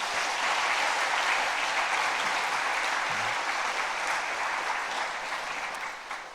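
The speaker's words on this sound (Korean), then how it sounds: "우리 중등부 고등부 비전 트립팀 우리 박수로 한번 격려해 주시기 바랍니다" A church congregation applauds in sustained, steady clapping that fills the sanctuary, encouraging the middle and high school vision trip team, then slowly tapers off toward the end.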